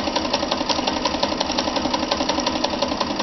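Kenmore 158.13033 sewing machine stitching a wide zigzag, a steady fast rhythmic whir with rapid needle clatter, close and continuous without talk.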